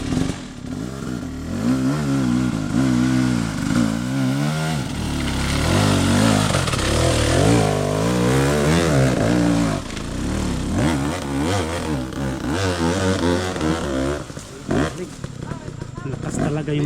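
A KTM dirt bike engine revs hard on an outdoor trail ride, a loud, close, rasping drone that surges and falls repeatedly, with riders talking over it.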